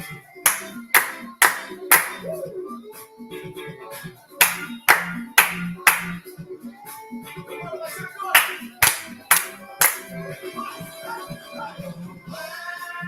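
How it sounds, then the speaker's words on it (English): Audience clapping along at a Festival da Canção live semifinal, sharp loud claps in uneven rhythmic bursts separated by short gaps, with music and faint voices underneath. "The clap."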